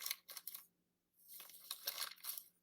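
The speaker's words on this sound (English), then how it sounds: "We'll do paper crunching." Paper is crunched and crumpled by hand as a Foley effect, in two quiet, crisp bursts of crackling separated by a short pause.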